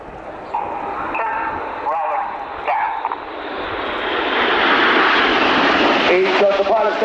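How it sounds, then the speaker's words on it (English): Red Arrows jets pitching up into an aileron roll at the Royal International Air Tattoo air show, a loud, swelling jet roar that builds and sweeps past, heard under a commentator's voice. "Each of the pilots there pitching up to fly an aileron roll manoeuvre"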